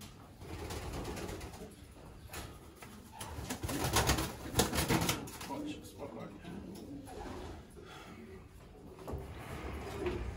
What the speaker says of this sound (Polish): Teraz tutaj dalej mamy nasze gołębie, które były wychowane u nas do rozpłodu